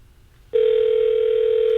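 Outgoing telephone call tone starts abruptly after a moment of quiet and holds as a steady, loud single-pitched tone.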